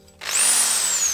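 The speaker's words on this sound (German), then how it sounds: "Weiter bohren." A power drill spins up abruptly into a high, steady whine while boring out a spark plug in an engine, holding briefly, close and loud.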